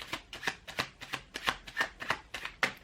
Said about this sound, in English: I'm going to do one more shuffle if nothing else comes out.